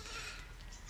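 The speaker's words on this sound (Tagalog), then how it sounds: "Nagsisilungan lang yung mga alaga kong kambing." Goats bleat in a brief, fairly faint call at a rural farm, with livestock sheltering from the heat in the province.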